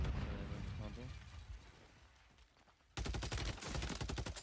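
Rapid bursts of gunfire in Call of Duty: Warzone crackle loudly, fading into a quieter stretch with a voice talking, then erupting again in a dense automatic volley.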